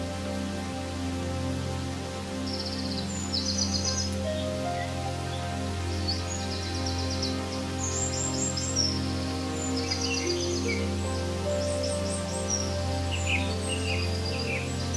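A golden-winged cartoon bird perched in a tree chirps in short, bright bursts of twittering calls repeated every second or two, layered over a steady soft musical drone and a faint patter like rain.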